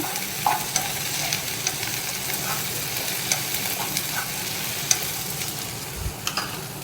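A chopped small tomato fries in a pan with a continuous crackling sizzle, broken by scattered clicks and scrapes of stirring, fairly close and loud.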